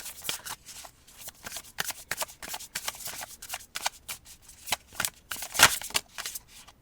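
Tarot cards being shuffled and drawn by hand, a close run of quick riffling and slapping bursts with a louder flutter near the end, no talking.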